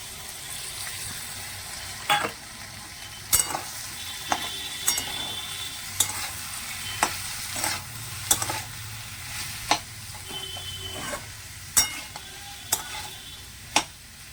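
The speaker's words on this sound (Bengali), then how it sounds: "এখানে বসিয়েছি আলু পোস্ত" Aloo posto, white potato with poppy seed and no turmeric, cooking in a pan on a home stove: soft continuous sizzling broken by a dozen sharp clinks and scrapes of stirring at irregular intervals, no talk.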